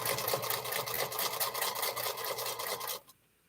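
A sewing machine stitches through a quilt top in a steady, fast run of needle strokes, close and fairly loud, then cuts off abruptly near the end, leaving near silence.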